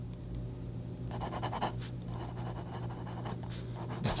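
A refurbished Swan leverless fountain pen nib scratching across paper, close and soft, with strokes coming in short irregular runs and no talking.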